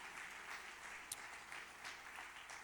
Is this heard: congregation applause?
yes